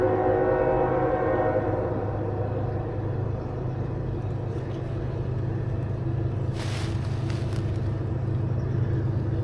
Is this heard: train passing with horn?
yes